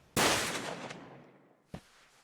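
Gunfire in the video game Yakuza 0: one sharp, loud shot that rings out and decays over about a second, followed by a second, weaker report.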